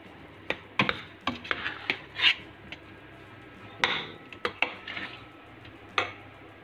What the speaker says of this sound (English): we will put in the big pot so that we can smash the potato